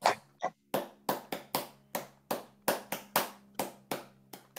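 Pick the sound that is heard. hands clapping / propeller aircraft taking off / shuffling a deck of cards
hands clapping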